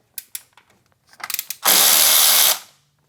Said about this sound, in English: Now we need a 10mm socket to loosen up this nut right here.